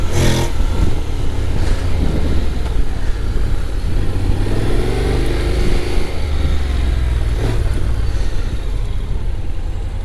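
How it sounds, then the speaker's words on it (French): A 2025 Honda Forza 750 scooter engine runs close and loud, its steady drone swelling briefly as the throttle is revved. "C'est un vrai bruit de moto par contre."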